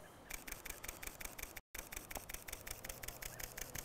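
A Lumix camera shutter fires in burst mode, a fast, steady run of crisp clicks close by, with one brief dropout partway through.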